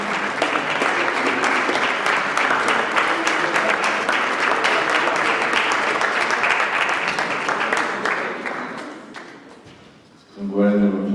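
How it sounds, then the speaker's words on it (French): Loud, sustained applause from an audience honouring young athletes at a sports festival ceremony, dense clapping that holds steady for several seconds, then thins and fades, followed by a voice speaking. "Applaudissez bien fort"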